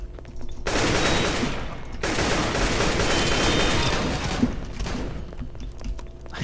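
Dense rapid gunfire from the Roblox game Arsenal, including an AK, sounds as a loud sustained fusillade with a brief gap near two seconds, then continues before tapering off.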